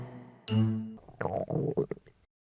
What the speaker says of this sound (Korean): 그래서 꼬르륵 소리가 멈출 줄을 몰랐어요.